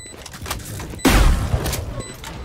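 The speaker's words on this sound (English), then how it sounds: "Picking up the shotgun, using it to destroy the wall." A single loud shotgun blast blows through a wall in a video game during a high school esports match, a sharp booming burst followed by a short rumbling tail over low background game noise.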